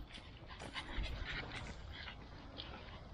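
A dog at a muddy campsite pants quickly and steadily at close range, with faint whimpers and breathy huffs over quiet outdoor background noise.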